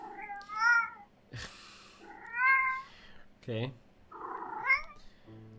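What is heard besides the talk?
cat meowing and purring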